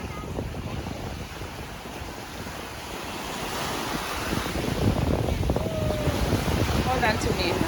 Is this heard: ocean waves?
yes